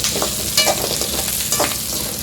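Cumin, dried red chillies, fenugreek, black peppercorns and coriander seeds dry-roasting in a pan, stirred with a few scraping strokes over a soft continuous sizzle, close and fairly clear.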